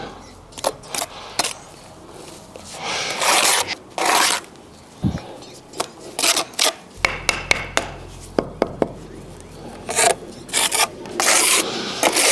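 A brick surface rubbed down by hand in a DIY brick-repair job, giving repeated harsh rasping strokes up close, in uneven bursts with short pauses and a few knocks between.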